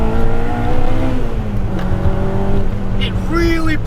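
K20-engined Honda Civic Type R EP3 revving hard under load, a steady strong engine drone with rising harmonics as it pulls up through the revs, close and loud, with a voice talking over it.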